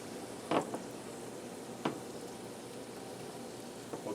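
Steady, soft sizzling of fish fillets frying in hot oil in a Copper Chef pan, with a few brief louder crackles and pops rising above the constant hiss.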